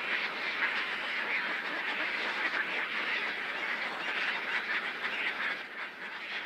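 A dense colony of common terns and gulls in the Selenga delta fills the air with continuous overlapping shrill calls and cries, loud and unbroken throughout.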